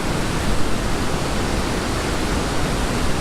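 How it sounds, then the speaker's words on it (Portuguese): Waterfall in the Gerês mountains in autumn, a steady, loud broadband rush of falling water that fills the whole clip without pause, close by and with no voices. "Barulho da água,"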